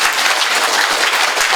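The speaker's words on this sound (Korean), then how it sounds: "알았으면 박수 쳐." An audience at a health lecture on traditional Korean medicine breaks into applause, a loud, dense, continuous patter of many hands clapping close by.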